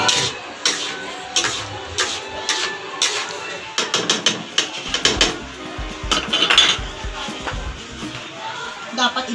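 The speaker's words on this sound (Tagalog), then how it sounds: "hahaluin natin syempre" Clattering metal and utensil clinks as carbonara is stirred in a pan at home, with irregular scrapes and taps over several seconds, fairly close, and a voice talking over the clatter.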